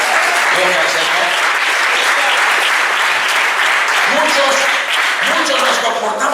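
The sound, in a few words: congregation applauding in church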